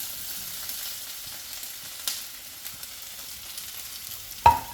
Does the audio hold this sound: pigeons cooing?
no